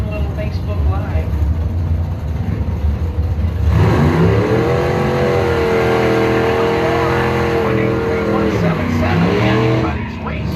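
Drag racing cars at a Mopars Against the World bracket race, engines roaring loud and close as they launch and rev, with a Chevy taking the win, a sustained high engine drone under continuous announcer talk.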